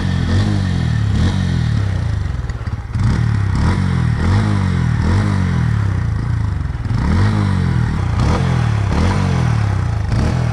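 A Bajaj Pulsar N150 motorcycle engine idles at low RPM close by, a steady loud throb with a rhythmic mechanical clatter, heard alone.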